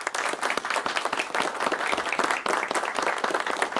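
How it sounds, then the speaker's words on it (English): Dense audience applause at a live stage show, many hands clapping steadily and loudly throughout with no gaps, a broad crowd sound from start to finish. "Let's clap it up."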